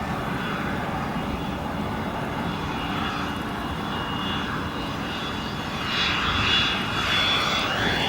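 A jet airliner roars steadily on the runway at O'Hare Airport at sunset, a loud, broad engine rumble that swells louder toward the end as the aircraft passes close.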